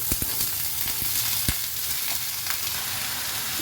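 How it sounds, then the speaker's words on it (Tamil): Steady crackling sizzle of mustard seeds frying in hot oil, with a few sharp pops standing out, close and continuous with no voices. "இப்போ எண்ணெய் காஞ்சிட்டு நம்ம கடுகு போட்டுடலாம் இப்போ கடுகு பொறிஞ்சிட்டு புடலங்காய் போட்டுடலாம்"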